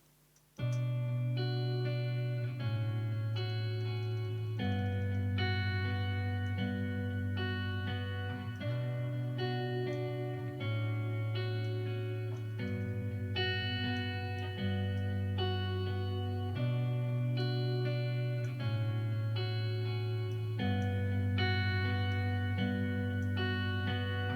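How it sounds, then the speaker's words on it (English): A sustained tone passes through a saturation distortion plugin applied to a vocal, gritty and harmonically rich, holding steady chords for the whole stretch without talk. "we'll listen to what the saturation distortion plugin sounds like on the vocal"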